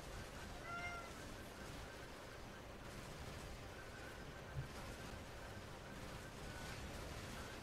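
A house cat meows a couple of times close by during a NieR Automata gaming session, its brief calls sitting over steady game audio and background noise.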